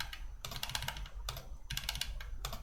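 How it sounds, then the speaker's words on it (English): Quick bursts of clicky typing on a computer keyboard come in several clusters separated by short pauses, close and fairly loud, with no voice. "I'm just typing whatever."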